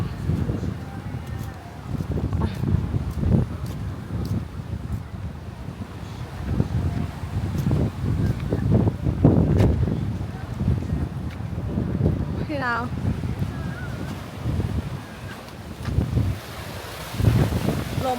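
Strong seaside wind at Bang Pu roars and buffets the microphone continuously with a heavy, rumbling rush, while people talk and exclaim over it throughout.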